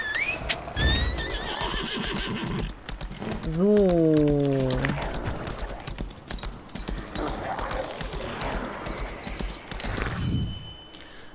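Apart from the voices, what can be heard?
horse hooves clip-clop, video game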